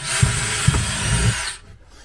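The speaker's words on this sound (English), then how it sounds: "make sure I don't drill too high and get my hand out of the way when I drill my hole" A power drill whines steadily as it bores through a pontoon boat seat, with a few knocks, then cuts off abruptly.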